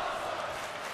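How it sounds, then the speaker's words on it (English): A wrestling arena crowd in WWE 2K22 cheers in a steady, dense roar that holds at an even level throughout, with no distinct claps or chants standing out. "The crowd showing their appreciation for these two men and what they are accomplishing inside of the ring right now"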